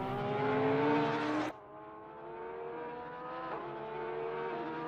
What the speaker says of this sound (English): Listen to that Porsche.